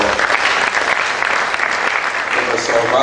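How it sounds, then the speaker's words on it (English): A lecture audience at a medical talk on sudden death claps loudly and continuously, a thick wash of many hands close by that holds steady throughout the short burst. "Another round of applause for"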